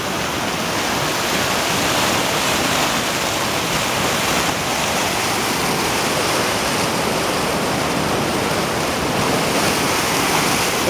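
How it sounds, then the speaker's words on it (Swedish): Rushing water roars steadily in the Jotunheimen mountains of Norway, a loud, unbroken hiss like a waterfall or torrent that fills the whole clip without pause. "Det är så klart vattnet."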